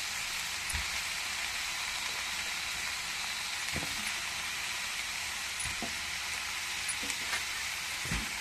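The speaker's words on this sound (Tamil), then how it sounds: "நல்லா வதக்கிக்கோங்க." Chopped pumpkin sautéing in oil in a pan for pumpkin sambar, a steady, moderately quiet sizzle throughout with occasional scrapes and taps of the stirring spoon, no voices.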